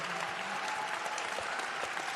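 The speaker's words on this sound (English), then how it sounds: "Let's give our panelists a round of applause." A conference audience applauds a panel of speakers with a steady, dense clapping that sounds somewhat distant and moderately faint, with no talk over it.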